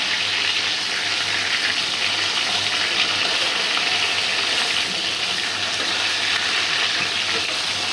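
Fish pieces fry lightly in oil in a kadai, giving a loud, dense, continuous sizzle with a low steady hum beneath and no speech.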